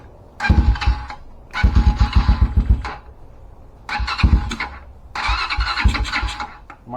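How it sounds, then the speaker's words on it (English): A Hawk 250 motorcycle engine with no choke is cranked in four separate bursts, each a rapid rhythmic chugging of the starter lasting one to two seconds, with short pauses between them. "See if she cranks up."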